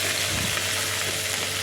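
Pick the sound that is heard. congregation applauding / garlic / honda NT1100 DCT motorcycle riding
garlic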